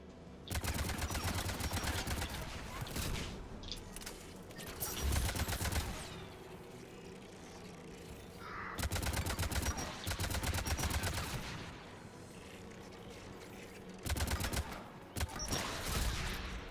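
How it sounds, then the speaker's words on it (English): Anti-aircraft guns in the video game Mass Effect fire in loud, sustained bursts of rapid shots, several volleys separated by short lulls with a steady background hum. "There, the anti-aircraft guns."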